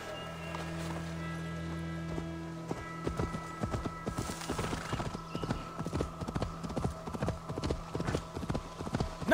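Horse hooves while riding in Assassin's Creed Valhalla: after a quiet start, a steady clip-clop gallop of hoofbeats builds and continues evenly, close and moderately loud over a humming game soundscape.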